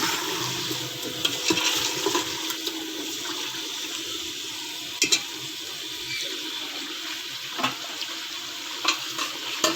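Tomato, onion and yogurt paste fries with chicken for a pressure cooker dum biryani, hissing and sizzling steadily while occasional sharp clanks of stirring utensils ring out against the pot.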